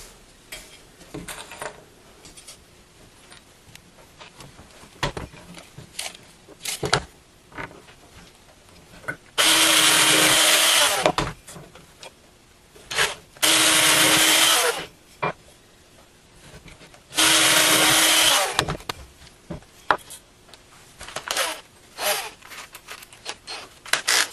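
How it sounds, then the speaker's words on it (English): A power drill pre-drills into a wooden MAME arcade cabinet speaker panel in three loud, steady whirring bursts of a second or two each, separated by quieter handling clicks and knocks. "then pre-drill into here, and then install it a little more permanently"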